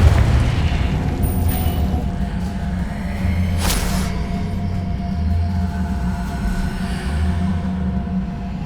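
A Confringo spell blast in the video game Hogwarts Legacy, a heavy, sustained rumbling boom with a sharp burst near the middle.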